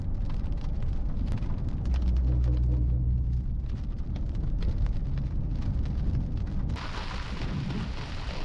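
Heavy downpour during a violent thunderstorm in the Jazan region, a dense continuous roar of rain with deep low rumbling throughout, loud and close, with no voices.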